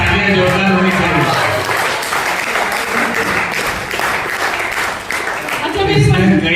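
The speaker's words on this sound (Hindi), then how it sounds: "तालियां जोरदार होनी चाहिए।" Audience at a shayari poetry performance breaks into loud, sustained applause, a thick wash of clapping lasting several seconds, with a voice talking over it at the start and end.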